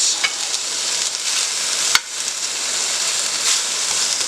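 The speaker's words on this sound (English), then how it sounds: "So we're going to saute these." Chicken frying in oil in a hot skillet, a steady close hiss and crackle of sizzling with small pops and a sharp clack midway, no talking.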